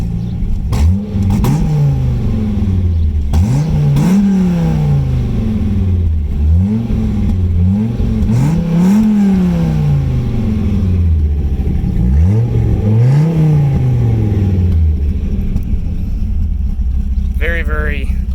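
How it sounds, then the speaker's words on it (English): A 2004 Dodge Viper SRT-10 with Borla side exhaust revs repeatedly, its deep engine note swelling and dropping in four or five rising throttle blips, loud and close, with a voice speaking over parts of it. "we'll give it a little bit of throttle here and let you kind of hear it"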